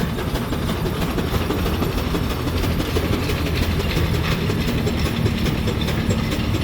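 A road grader working at a steam engine show in Carthage, North Carolina, gives a loud, continuous, close mechanical rumble with rattling and clanking, and no voices over it.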